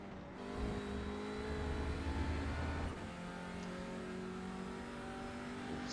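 An Audi RS3 LMS TCR race car heard from inside, its engine droning steadily with a thin high turbo whine running over it, easing slightly partway through.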